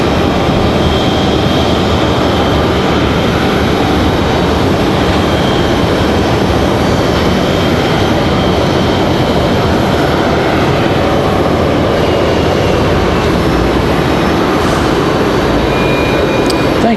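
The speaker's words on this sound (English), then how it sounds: "our A319 gets a move on here for United Airlines" A United Airlines Airbus A319 airliner moves along at Raleigh-Durham International Airport, its engines a steady broadband roar with a faint whine, continuous and fairly loud for the whole stretch, with no talking.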